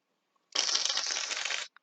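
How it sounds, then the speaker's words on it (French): An old shaving foam aerosol can sputtering out a single harsh, crackly spray burst of about a second, close and fairly loud, ending with a tiny click. "ma bombe de mousse à raser fonctionne pas hyper bien"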